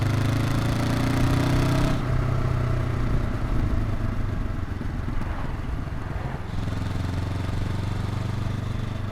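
A Honda NX500 motorcycle engine pulls in fifth gear while riding, a steady loud drone mixed with wind rush and road noise, with a shift in the engine note partway through.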